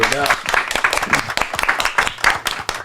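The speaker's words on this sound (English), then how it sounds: "Can we give a round of applause for that one right there?" Brief clapping from a small audience on a podcast set, a scattering of individual sharp claps mixed under ongoing talk and cheering voices.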